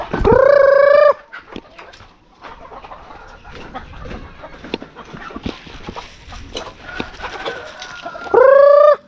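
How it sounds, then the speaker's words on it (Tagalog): Chicks and other fowl on a Filipino farm chirp and cluck in a busy mix, with two loud, close bursts of high rising peeps at the start and end and scattered calls between, no talking. "mga sisiw"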